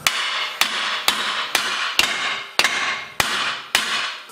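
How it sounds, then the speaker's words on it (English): Eight sharp metallic hammer blows on a Nissan Juke's front lower control arm ball joint ring out at a steady pace, each strike followed by a brief ringing decay, close and loud. "I'll just take my hammer and give it a few whacks"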